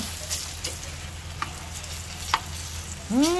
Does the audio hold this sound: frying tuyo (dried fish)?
yes